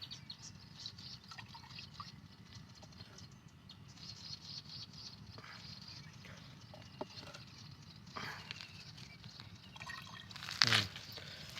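Water drains from a freshly cut banana stem, making a faint, continuous patter and dripping that runs for several seconds, close by and quiet, with a slightly louder splash near the end and no talking.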